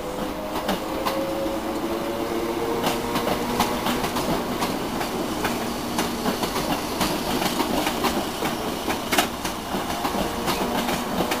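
A Class 321 electric multiple unit departs Manningtree station for Harwich Town, a steady rail rumble with rhythmic clickety-clack of wheels over joints, fairly close and continuous without voices.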